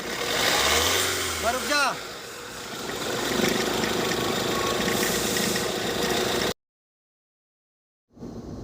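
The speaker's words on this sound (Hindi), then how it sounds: "दोस्तों जब रेस दूंगा तब आवाज़ आएगी।" A Tata Harrier engine under the hood revs up with a rising whine, then settles back into a steady idle, close and loud, with a brief spoken phrase before a sudden cut to silence and the idle returning.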